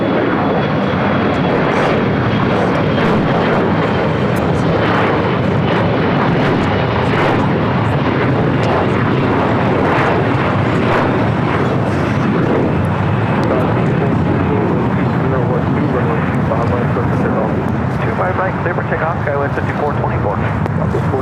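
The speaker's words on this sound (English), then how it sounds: "Second Asiana A380 of the day." An Asiana Airbus A380 jet airliner roars past at an airport, a loud, sustained broadband engine rumble lasting throughout with wind buffeting, while people talk over it.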